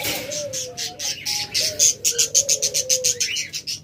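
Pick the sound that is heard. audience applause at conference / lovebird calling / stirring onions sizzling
lovebird calling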